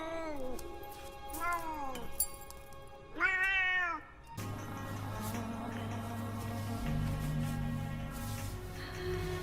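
A cat meows in the film Catwoman, several drawn-out rising and falling meows close and clear, followed by a swelling musical score underneath.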